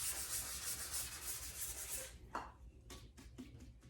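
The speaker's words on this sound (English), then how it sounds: "I like to just use this fine 400 grit just to kind of rough up the deck" Fine 400-grit sandpaper rubs across the deck of a 351 Cleveland engine block, a steady close scratchy sanding for about two seconds, then a few short separate strokes and taps.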